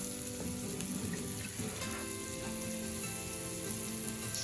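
Finely chopped garlic, eight cloves, sizzles in melted butter in a pan that earlier held salmon oil, giving a steady, close hiss and crackle with faint pan noise and no talking.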